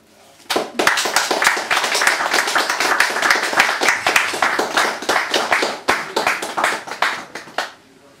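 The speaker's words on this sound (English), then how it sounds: "More applause, please, for Katrina Naomi" Lively applause from an audience at a poetry reading for poet Katrina Naomi, many hands clapping in a fast, even wash that fills the room for about seven seconds before stopping.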